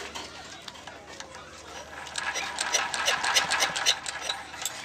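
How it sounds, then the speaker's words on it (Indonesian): A Dongfeng diesel engine is cranked by hand with the throttle lever raised, giving a rapid rhythmic mechanical clatter that builds and grows louder after the first couple of seconds without catching. "Akan coba kita hidupkan dengan slengernya."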